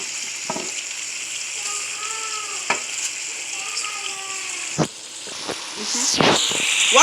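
Meat for pepper steak fries in a pan with a steady hiss, broken by occasional sharp pops and scraping stirs. A voice talks faintly underneath.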